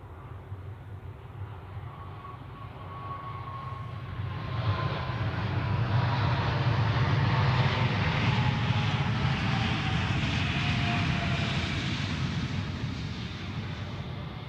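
An Asiana Airlines airliner approaches to land at Zurich Airport, its jet engine roar swelling from a distant hum to a loud, steady drone overhead before slowly easing, with no one talking.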